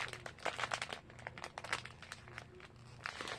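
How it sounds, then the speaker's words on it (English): Close, soft crinkling and rustling of fabric packaging being handled, steady and irregular with small crunchy bursts, no voices. "Sorry for the crinkling."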